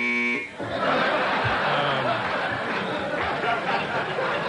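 A brief electronic buzzer tone sounds at the start, then gives way to a crowd chattering and laughing.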